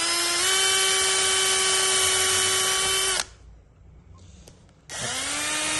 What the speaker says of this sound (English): So I just take a drill